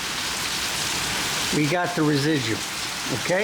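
Steady, hissing rain falls through stormy weather in a continuous wash of noise while someone talks over it.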